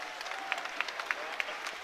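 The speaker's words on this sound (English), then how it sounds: "Rapturous applause from the Falkirk crowd" A Falkirk football crowd applauds at a stadium, a steady wash of clapping with a few louder individual claps standing out, heard at a distance under faint commentary.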